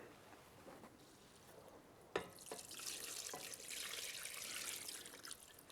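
Water runs into a cooking pot for fish stock, a steady splashing pour about two liters' worth, with a sharp start and a brief interruption before continuing close and clear with no talking.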